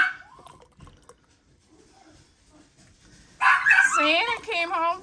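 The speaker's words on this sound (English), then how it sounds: "so you're gonna hear some dogs" Several household dogs break into loud, excited barking as someone arrives home through the front door, close by, following quieter room sounds and faint talk.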